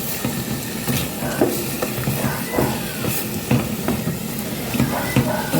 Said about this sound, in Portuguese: Uma refogada.